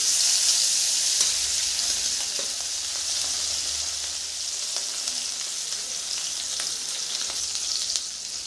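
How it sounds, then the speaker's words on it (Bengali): Turmeric-and-salt-rubbed hilsa fish pieces fry in hot oil, giving a loud, continuous close-up sizzle and crackle with a few faint taps; no one speaks. "তেল গরম হয়ে গেছে, মাছটা দিয়ে দিব।"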